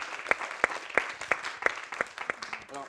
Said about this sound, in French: Là, il faut l'applaudir